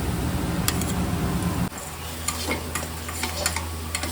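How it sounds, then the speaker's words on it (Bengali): Onions frying in a kadai, a steady soft sizzle with occasional stirring clicks, the pan noise shifting after a sudden change partway through. "পেঁয়াজটা ভাজা ভাজা একটু, মানে একটু লাল লাল ভাজা ভাজা হবে"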